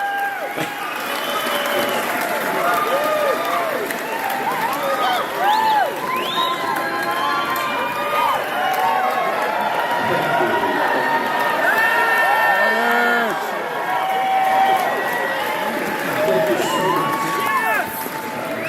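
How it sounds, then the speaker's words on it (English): A large crowd at a 2023 Geddy Lee and Alex Lifeson live conversation event in Toronto screams and cheers continuously, a dense wall of high-pitched shrieks and applause that barely lets up. "You just hear the screaming."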